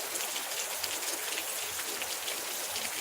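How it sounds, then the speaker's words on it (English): Steady rain falls on a hot day along the Indian Ocean coast, a dense, even hiss of drops that stays soft and constant throughout, with no voices. "it's raining, but it's very hot."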